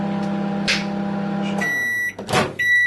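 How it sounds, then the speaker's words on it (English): A microwave oven hums steadily as it heats a bowl of rice and beans, then clunks off and sounds a string of loud, close electronic beeps, with a door or latch knock in between. "I'm going to stick it in the microwave just to hopefully loosen up"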